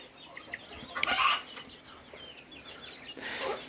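Frizzle chickens cluck and squawk nearby in short bursts on a small farm, with a louder flurry of calls partway through over quiet outdoor background.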